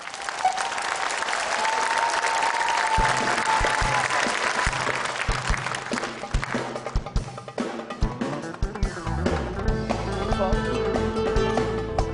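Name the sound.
audience applause starting karaoke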